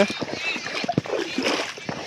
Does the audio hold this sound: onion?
no